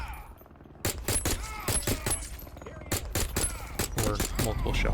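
Rapid gunfire rings out in the VR light gun game Aim Assault, bursts of sharp repeated shots in quick clusters, loud and close, with a person talking over the action.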